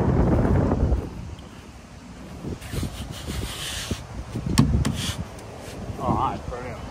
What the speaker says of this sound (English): you'll hear me, wind, very windy